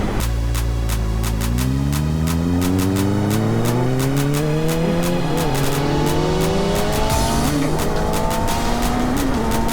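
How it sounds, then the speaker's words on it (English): A motorcycle engine climbs through the gears on upshifts with an auto blipper, loud and close, its rising revs stepping smoothly to each new gear over constant wind rush. "Testing the auto blipper on the upshift, and it is really smooth."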